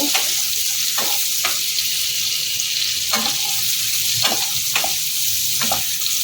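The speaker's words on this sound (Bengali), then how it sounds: "এগুলোর মধ্যে দিয়ে দিলাম ভালো করে নেড়ে চেড়ে নেবো" Prawns stir-fried with green chillies and sliced onions in a hot pan give a loud, continuous sizzle, broken by repeated scraping strokes of a spatula every second or so, close up with no voices.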